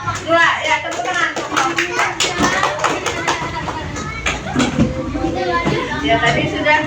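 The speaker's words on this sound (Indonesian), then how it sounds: "terima kasih untuk kelompok 2. Ya, tepuk tangan." A class at an Indonesian primary school, SDN Sungai Miai 11, claps for a student group after its presentation. The clapping is scattered and uneven, mixed with children's chatter and a few thumps.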